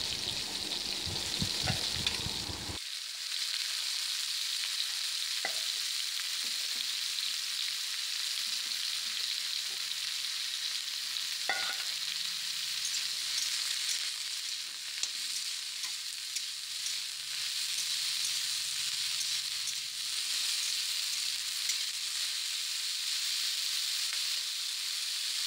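Water lily stems fry in hot oil with a long, even hiss and sizzle, a brief clatter at the start and an occasional soft stir or drip sound.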